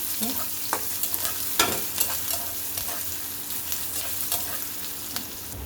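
Green chillies and onions fry in oil with a constant sizzling hiss, punctuated by repeated scraping stirs and clinks of a spatula against the pan; no voices.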